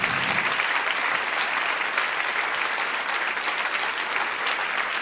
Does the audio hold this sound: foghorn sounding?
no